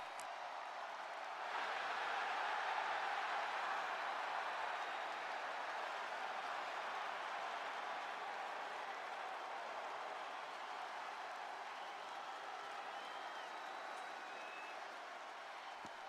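Arena crowd noise from the WWE 2K24 video game, set at a live event in Paris: a steady, broad roar of cheering that swells after a moment and then holds at an even level throughout, with no talk over it.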